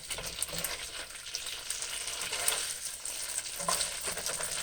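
Food browns in a hot pan with a constant crackling sizzle and occasional stirring scrapes, close and steady throughout, no voices.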